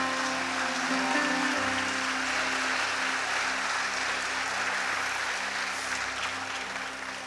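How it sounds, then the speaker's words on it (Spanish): Audience applause in a church gathering, a dense and steady wash of clapping from a large crowd, sustained throughout and fading slightly at the end, with some music or hum beneath it. "Quiero que la recibamos con un fuerte aplauso"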